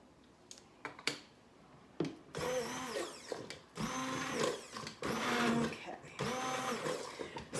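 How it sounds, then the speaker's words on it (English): An immersion blender whirs through asparagus, Parmesan and lemon soup in repeated loud bursts of high motor whine, switching on and off several times after a few clicks and knocks at the start. "now we're going to hit it with our immersion blender"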